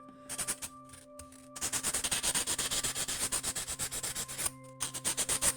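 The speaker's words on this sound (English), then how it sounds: "With the nail sander, we just do like that" A nail sander rubs against wooden edges to round them, a close, steady rasping scrape in rapid strokes with a brief pause before resuming, over a faint background hum.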